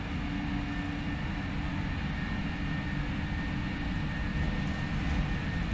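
Boeing 737 engines at takeoff thrust in a Prepar3d flight simulator with the PMDG 737NGXu, a steady, dense engine roar that holds level throughout with no voices.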